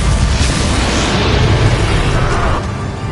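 A Bombarda spell explosion from the video game Hogwarts Legacy, a loud, dense blast of booming low rumble and broad crackling noise that fills the whole moment and trails off slightly at the end.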